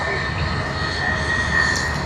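A Malaysia Airlines jet at Sydney Airport roars with a steady, broad engine rumble and whine, loud and continuous for a couple of seconds.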